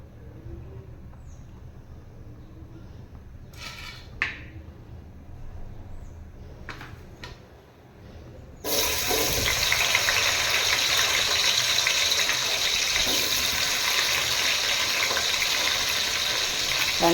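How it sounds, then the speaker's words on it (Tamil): Chopped onions drop into hot oil for millet rice, followed by a sudden loud, steady hissing sizzle that continues close and bright after a few quiet clinks. "நம்ம இப்போ வெங்காயம் போட்டு வதக்கலாம்."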